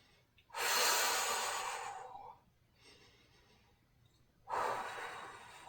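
Deep, loud breaths during a core workout: a long, forceful exhale lasting nearly two seconds, a quieter breath, then another strong breath starting up, close to the listener with no talking.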